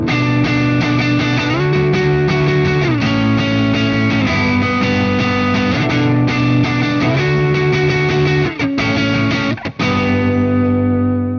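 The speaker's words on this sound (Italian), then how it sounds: "Sempre pick up al manico, però con la distorsione e versione single coil." Electric guitar played through distortion on the neck pickup in single-coil mode, a thick saturated tone sounding sustained chords that shift every second or so, loud and close, with brief gaps near the end before a final ringing chord.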